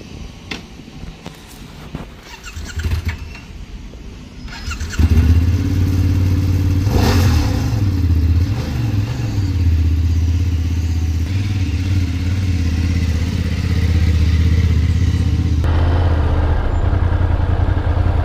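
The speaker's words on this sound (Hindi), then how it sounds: "ये मोटरसाइकिल ली है F800 GS" A BMW F800 GS motorcycle starts and rides off, a loud, steady mid-pitched engine drone close by after some clicks and handling noises, the engine tone rising and falling slightly with throttle.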